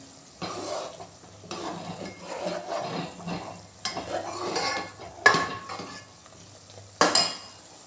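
Ghee stirred in a pot with a ladle, giving soft scraping and gentle bubbling, broken by a couple of sharp metallic clinks against the pot.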